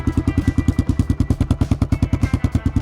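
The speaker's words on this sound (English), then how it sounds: "Once you get under the throttle, it actually livens up pretty good and has a pretty decent grumble to it." A 1990 Kawasaki KLR650 single-cylinder motorcycle engine with an aftermarket exhaust and a leaking header pipe idles close by, loud and steady, with a regular thumping pulse repeating about eight times a second.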